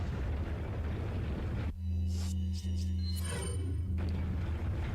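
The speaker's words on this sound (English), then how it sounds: "Cool guys don't look at explosions." A deep, booming dynamite blast in the video game Resident Evil 4 cuts in suddenly with a rumbling low roar, followed by crackling debris and a second burst before fading back to background.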